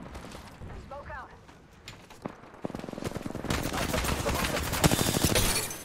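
Rapid video-game gunfire bursts, machine-gun-like and dense, building louder in the second half of a tactical shooter match, with mechanical clicks and a brief voice in the background.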